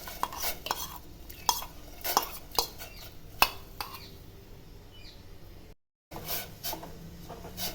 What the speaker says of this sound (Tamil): ரொம்ப கிண்டினே இருக்கலாம்.